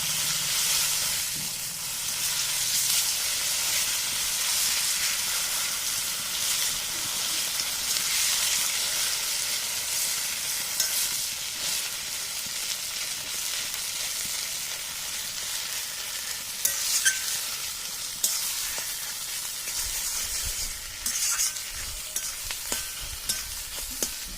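Giant taro paste in hot oil in a kadai, frying with a steady, close sizzle and hiss that runs throughout, broken by occasional scraping and clinks as it is stirred.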